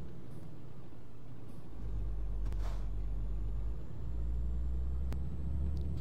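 A truck in Euro Truck Simulator 2 pulls away with a low, steady engine rumble that swells and holds, broken by a brief air-brake hiss and a couple of faint clicks.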